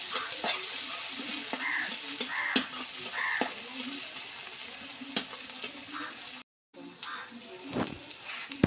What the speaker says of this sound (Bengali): এখন দিয়ে দেওয়া হচ্ছে পেঁয়াজ কুচি।